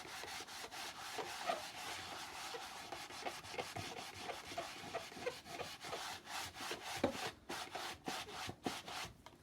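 A transfer made with Primary Elements is rubbed off a surface by hand, giving a steady, close, continuous scrubbing and rasping with quick repeated strokes that grow more pronounced toward the end.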